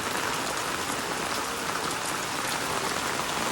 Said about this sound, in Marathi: एवढा जोरात पाऊस पडतो आहे